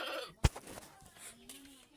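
Goat bleat from a white household goat, one short nasal call near the start followed by a faint wavering tone and soft background noise; no talk over it.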